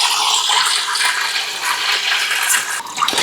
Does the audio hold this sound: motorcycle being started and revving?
no